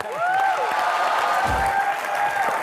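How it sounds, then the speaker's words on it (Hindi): Studio audience applause on an Indian comedy talk show, welcoming director Umang Kumar; steady, dense clapping fills the room throughout, with a faint tonal music line running beneath it. "प्लीज जोरदार तालियां से स्वागत कीजिए मिस्टर उमंग कुमार का।"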